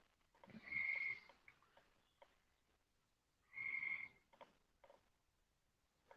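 A frog croaking twice in two loud, buzzy calls a few seconds apart, with quieter clicks and faint shuffling in a reptile-show room between them.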